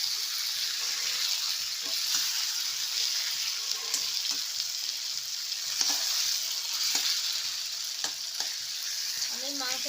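Chicken pieces for a potato chicken curry are fried down in a pan, a dense continuous sizzle with frequent spoon-stirring scrapes and clatters, close and fairly loud, with no talking.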